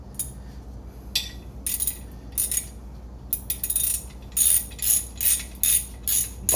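Bolts being removed during a hub bearing change on a 2005 Honda Civic EX: a series of sharp metallic ratcheting clicks and clinks in short irregular bursts, growing more regular and rhythmic toward the end, close and fairly loud.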